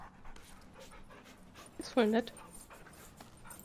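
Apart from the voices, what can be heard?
dog panting and whimpering in the video game Remnant from the Ashes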